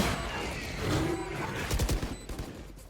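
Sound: gunfire in the video game Valorant

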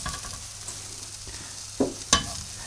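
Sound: vegetables, potatoes and onion sautéing in oil

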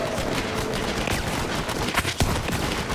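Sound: pistol gunfire in video game Borderlands 3

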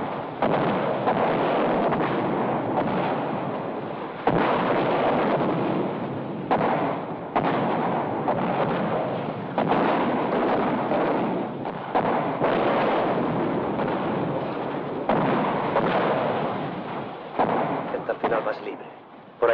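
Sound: artillery fire barrage

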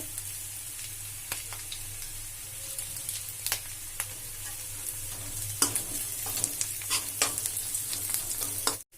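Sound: green chili frying in oil

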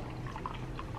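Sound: pouring isopropyl alcohol into a container

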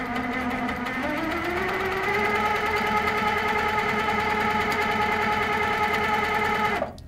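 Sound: sewing machine stitching a number six spiral

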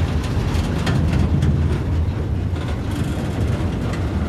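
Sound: subway train starting to move in a video game

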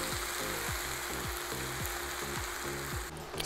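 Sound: tomato juice poured into sizzling pan

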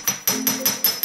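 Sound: hammering the end of a vine ring

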